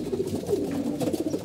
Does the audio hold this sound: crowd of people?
no